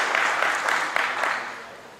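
A short burst of crowd clapping at the prize-giving ceremony of a 2018 rally in Heinola, Finland, for the three fastest car crews; clear individual claps that taper off within a couple of seconds.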